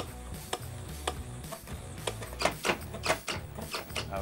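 A safe cracking robot's servo motor turns a combination dial, producing a run of rhythmic ticking clicks over a low whirring motor hum, with a small cooling fan running, all close and steady.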